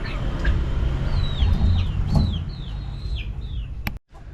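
Hens and a rooster settling at dusk give a run of rising squawks and soft clucks, close and clear over a low rumble of background noise, ending with a sharp click and brief silence.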